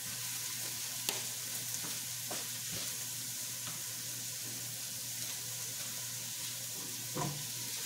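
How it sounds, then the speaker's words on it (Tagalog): Beef cooking in a pan, a soft steady sizzle of frying meat with a low background hum and a few faint clicks, fairly quiet and continuous without talk. "I have to cook first the beef."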